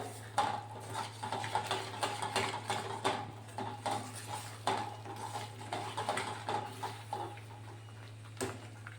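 A spoon stirs and scrapes through sticky gond pend, a gum resin sweet, with melted jaggery in a pan, making a steady series of soft clinks and scrapes over a constant low hum.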